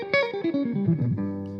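Electric guitar plays a quick descending diminished arpeggio starting from the major third, clean-ish with light effects, notes stepping down in a steady run before settling on a sustained low tone.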